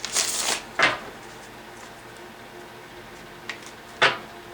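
A tarot deck is shuffled in a few short riffling bursts, two close together at the start and two more near the end, separated by quiet pauses.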